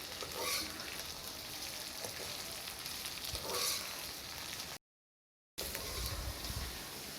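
Okra (bhindi) masala fry sizzling in a pan, a continuous crackling fry with stirring scrapes and a brief silent gap before the sizzle resumes, no talk.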